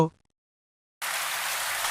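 Rain falls as a sound effect in a Bengali horror story, a brief voice cut off before a second of silence, then a sudden, steady, loud hiss of downpour.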